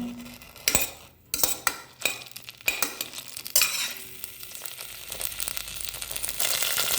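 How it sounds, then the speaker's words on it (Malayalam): Washed raisins frying in ghee in a pressure cooker, with loud metal spoon clanks and scrapes against the pot over a faint sizzle that grows steadier and hissier toward the end. "നെയ്യൊഴിച്ച് മുന്തിരി അണ്ടിപ്പരിപ്പും വറുത്തെടുക്കാം"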